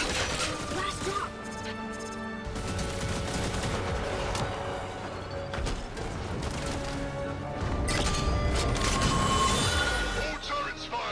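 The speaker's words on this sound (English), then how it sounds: "All turrets firing, and not a moment too soon." Turrets firing in Warframe produce dense, overlapping bursts of sharp shots and crashing impacts, loud and continuous, over a layer of game effects and tonal sound.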